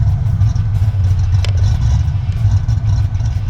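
A 1973 Ford Mustang restomod driving, its engine giving a heavy, steady low rumble heard from close inside, with faint rattles and a brief clatter over the drone.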